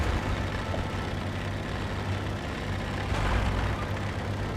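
In War Thunder, a tank's treads tear themselves apart while reversing at high speed, giving a steady, low, grinding engine-and-track rumble with a faint rough clatter on top, moderately quiet throughout.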